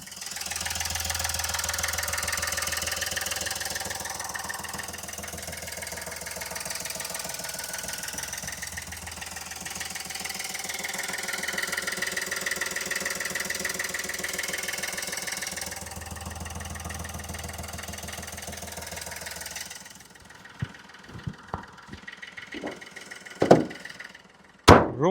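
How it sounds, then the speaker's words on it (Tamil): A 2012 Chevrolet Beat diesel engine idles steadily up close for about twenty seconds with an even clattering hum, then falls quiet and a few sharp knocks and taps follow. "இப்போ இந்த வண்டியோட இன்ஜின் சவுண்ட் எப்போ இருக்குன்றதை அந்த மைக்கை பக்கத்தில் வச்சு காட்டுறேன்"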